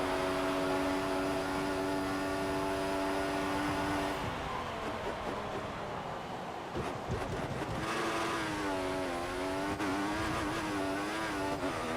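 Formula 1 car engines scream through the night-time Bahrain Grand Prix in the F1 2014 video game with a Force India car, a steady high-pitched whine that dips and climbs again through gear changes, loud and without talk.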